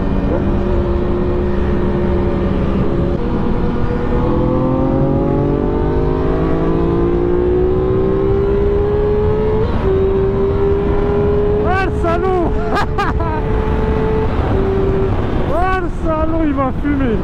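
Yamaha R6 sport motorcycle engine idling with a steady, throaty hum, then sharp blips of revving near the end, loud and close with people talking nearby.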